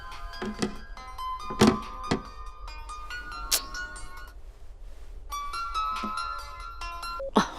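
A phone rings with an incoming call, a melodic electronic ringtone repeating in phrases at moderate volume, broken by a few dull thumps and a short quiet gap.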